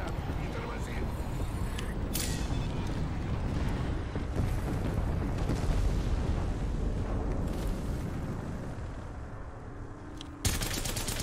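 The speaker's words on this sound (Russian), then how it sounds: "Запрашиваю бомбардировку." Continuous heavy rumbling air strike explosions and bursts of gunfire in a loud battle din in the video game Apex Legends, with a voice talking over it near the end.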